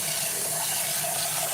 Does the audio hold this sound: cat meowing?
no